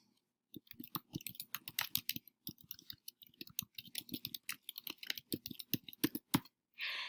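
Rapid, irregular typing on a computer keyboard, close and crisp, with clustered key clicks and brief pauses over several seconds, ending in a short hiss.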